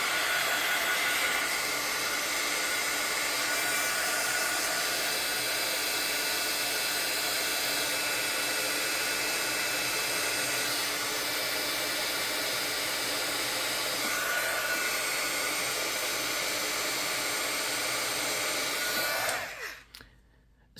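A heat tool blows steadily and loudly to dry ink stamped on paper tags, a continuous airy roar holding for about nineteen seconds before cutting off abruptly near the end, with no talking.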